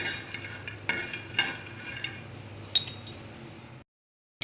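Peanuts tossed and roasting in a pan over low gas, with soft dry rustling, a few light clinks and stirring scrapes, then a brief silence before one last clink.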